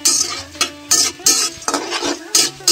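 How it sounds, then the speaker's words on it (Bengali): Khesari and chana dal being stirred in a pan, with repeated scraping strokes of a utensil against metal at an irregular rhythm, close and fairly loud, and no talking. "তো এটা কিছুক্ষণ নাড়াচাড়া করব"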